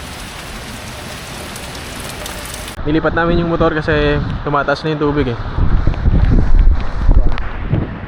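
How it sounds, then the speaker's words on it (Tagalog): Rain and strong wind roar across Paniman beach in Caramoan as a steady wash of noise, first alone and then under a person speaking for most of the rest. "So malakas na rin ng hangin, tsaka ulan."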